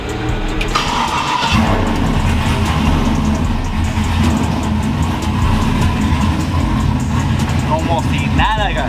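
Chevrolet C10 burnout truck engine cranking and catching, then running with a heavy, rough, steady low rumble close by, while people talk over it.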